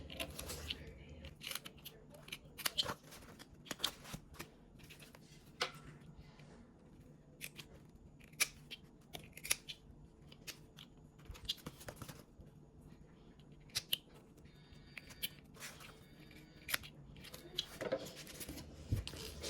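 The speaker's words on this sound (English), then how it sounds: "And we're going to snip off our corners." Fabric corners being snipped off with scissors while sewing a Be Hip 2.0 pattern: quiet, intermittent sharp snips and light rustling, close but faint throughout.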